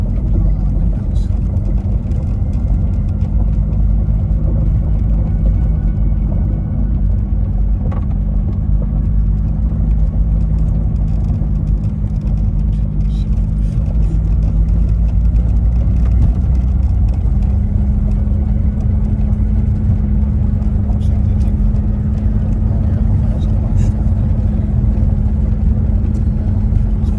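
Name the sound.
car driving slowly over bumpy ground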